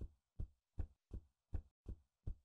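Footsteps on soft boxes in the Dollmare video game: seven evenly spaced, muffled low thumps resembling a slow heartbeat, close and alone.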